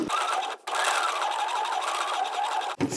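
A sewing machine stitches fabric at a steady, fast hum, running continuously for a few seconds before stopping briefly and restarting near the end.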